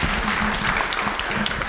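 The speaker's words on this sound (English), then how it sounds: "Give him a round of applause." An audience at a Salesforce education innovation event gives a round of applause to a prize winner, a brief burst of steady clapping that fills the room at an even level.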